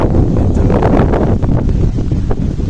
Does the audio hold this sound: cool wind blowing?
yes